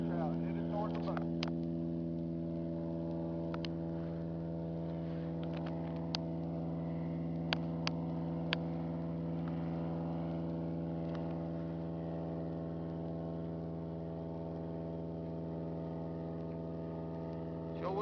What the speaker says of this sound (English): Sure will be nice when that old noisy airboat gets on by.